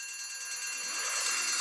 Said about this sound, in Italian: Mo, tiro l'allarme antincendio